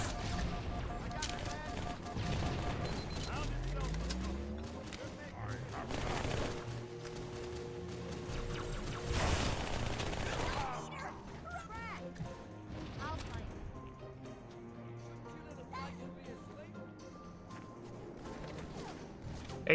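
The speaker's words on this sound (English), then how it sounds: "taking an SMG and shredding through mobs of grunts" SMG fire from Halo 2 rattles in fast bursts while grunts are mowed down, the repeated gunfire mixed with crashes and a game soundtrack, fairly quiet overall.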